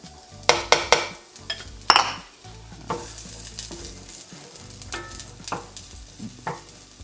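Onions sautéing in a hot cast iron pan, a steady close sizzle broken by sharp clanks and scrapes of stirring early on, then settling into even frying with scattered utensil knocks.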